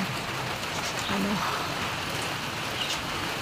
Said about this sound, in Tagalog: Nagsisimula na yung ulan.